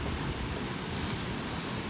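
Ocean surf heard from a shoreline viewpoint, a continuous soft wash of wave noise, steady and fairly quiet with no talk.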